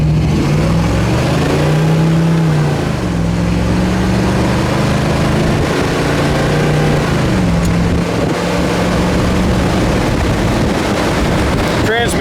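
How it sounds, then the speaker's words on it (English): A 1964 Chevelle SS drives down the road at about 55 mph, its engine note rising and then dropping as the transmission shifts up through the gears. Loud wind noise and road roar run underneath throughout. "Transmission shifts great right into overdrive, doing 55 mile an hour down the road, perfectly straight."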